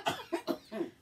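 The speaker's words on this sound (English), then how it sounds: "I started coughing." Four quick coughs in a row, close and fairly soft, each a short harsh burst.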